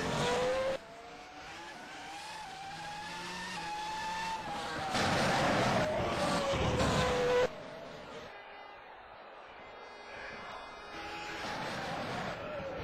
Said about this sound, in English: Let's follow Gosby around on his outlap.